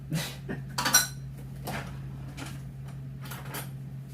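Dishes and a spoon are set down in a kitchen sink, giving a few sharp clinks and clatters early on, then lighter scattered knocks fading under a steady hum.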